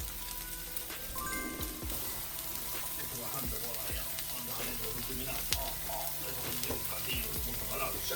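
Roasted garlic and peppers sizzle steadily in a pan for mini pizzas, a constant frying hiss with scattered soft pops and scraping stirs, fairly close, while faint background sounds run underneath.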